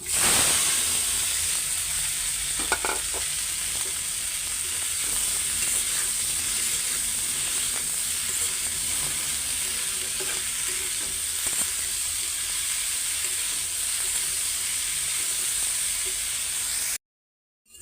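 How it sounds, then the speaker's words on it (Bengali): Okra frying in a pan of hot oil after eggs were fried in it, making a loud, continuous close sizzle with faint stirring scrapes and no voices, ending abruptly. "এখন এই তেলে এই যে ঢেঁড়স ভাজিটা করে নেই"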